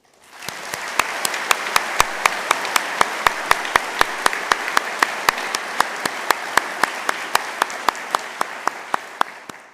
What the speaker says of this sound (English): we should take a moment to recognise this with a warm round of applause.